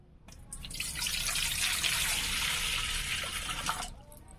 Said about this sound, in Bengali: গামলার মধ্যে নিয়ে নেবো জল।